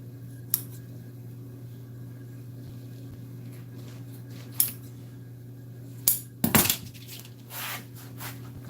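Scissors cut around a vehicle seat cover during reupholstery, a few sparse snips and a louder cluster of crisp cuts near the end over a steady low hum.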